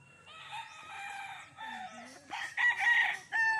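Fighting cocks on a game farm crow loudly and close by, several overlapping calls rising and falling in quick succession, with more crowing trailing off behind them.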